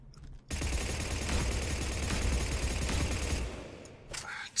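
Sustained automatic gunfire with recoil in Mass Effect 3, a dense continuous burst lasting several seconds, loud and close, then tapering off.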